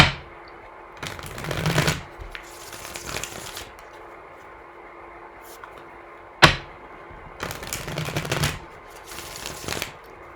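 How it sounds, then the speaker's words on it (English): A deck of cards, likely tarot, is shuffled close up in several rustling bursts separated by pauses, with one sharp tap of the cards partway through and no speech. "So I'll go ahead and start shuffling now, clear the energy of the deck"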